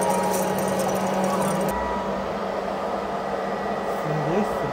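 A coffee roaster cools freshly roasted beans while drawing air through its base like a vacuum cleaner, a loud steady whooshing drone with a motor hum that shifts slightly partway through.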